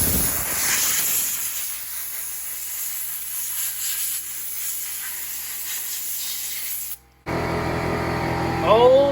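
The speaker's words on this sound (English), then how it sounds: "We're gonna blow all this dirt out of here." Compressed air blasts steadily into the dirty air box of a 2020 Honda Rubicon 420 ATV, a loud continuous hiss that cuts out briefly near the end and then resumes with a rougher tone.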